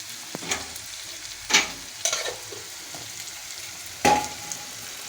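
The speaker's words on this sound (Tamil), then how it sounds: "இது நம்ம அரைச்சி வச்சுக்கிற மாவுக்கு தாளிப்புங்க. போடு." Tempering spices for a paruppu adai batter sizzle in hot oil while being stirred, a low crackling bed broken by a few sharp scraping bursts, close and moderately loud with no talking.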